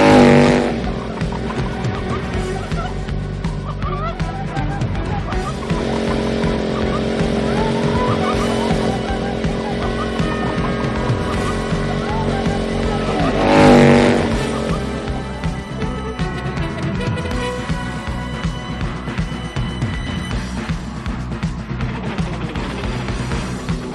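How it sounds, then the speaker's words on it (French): Snowmobiles of seal hunters in an animated cartoon set on icy land, a continuous engine drone with a louder swell near the middle, mixed under a dense musical score throughout. "Des scooters des neiges, les chasseurs de phoques."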